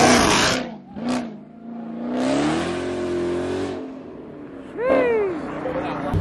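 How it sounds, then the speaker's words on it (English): A supercar leaving a car show in Columbus, Ohio revs its engine in loud, rising and falling bursts nearby, while spectators talk and shout over the noise. "Rev it, can you rev it? Rev it!"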